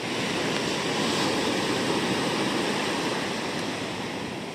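Ocean waves wash continuously at Teluk Asmara beach in South Malang, East Java, a dense, steady roar of surf close by, with no voices.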